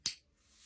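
One sharp, crisp plastic click from a dog training clicker rings out close up, followed by quiet.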